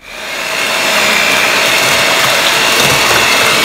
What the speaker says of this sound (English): We'll use our hand mixer to mix all these ingredients.